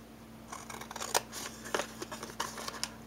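Scissors cut card stock along score lines for a hexagon paper box, a quiet series of crisp, irregular snips and rustles close by.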